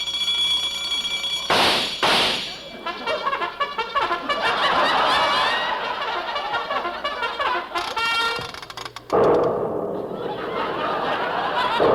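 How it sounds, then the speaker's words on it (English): A super colossal alarm clock goes off loudly, a clattering run of harsh ringing and buzzing bursts with thumps and a brief pause before a final blast. "This is our super colossal alarm clock."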